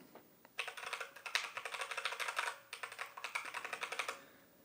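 Fast typing on a compact Redragon Zed Pro wireless mechanical keyboard with brown switches, a steady close patter of keystrokes in two bursts split by a brief pause.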